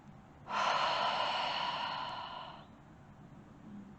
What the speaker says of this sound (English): Let's take a deep breath in through the nose together and out the mouth.